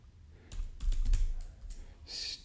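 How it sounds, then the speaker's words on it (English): A few quiet bursts of computer keyboard typing at close range, with short clusters of key clicks separated by pauses, ending in a brighter clatter of keystrokes. "And I type in Jeff, Mahia,"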